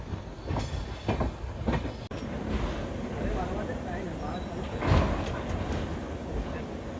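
Bhubaneswar–Howrah Jan Shatabdi Express rumbling along the tracks near Kharagpur, a steady rolling roar with clanking bursts and a brief drop, heard from inside the coach under faint background voices.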